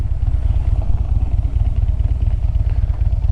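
A motorcycle engine runs loud and close with a steady, throbbing low rumble and some clatter throughout, as a rider pulls away to ride ahead of a newer rider.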